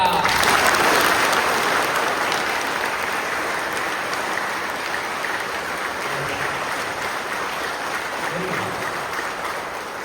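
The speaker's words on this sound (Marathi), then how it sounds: "एकदा जोरदार टाळ्या" Audience applause fills a hall during a happiness program session, a dense steady clapping from a sizeable crowd that stays loud throughout and tapers only slightly toward the end.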